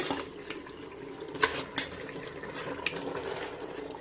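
Chicken pieces drop into a pot of biryani masala with a few soft wet plops and a couple of sharp clinks of a spoon against the metal rim, over a low steady cooking hiss.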